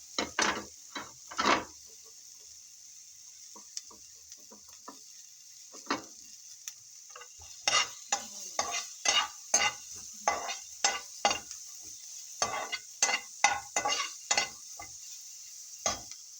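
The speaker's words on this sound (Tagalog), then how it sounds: "Now we have to add now this onions." Onions stirred into a pan with cabbage as a side dish, rhythmic scraping strokes in irregular bursts over a faint steady sizzle, close and moderately loud with quiet gaps between.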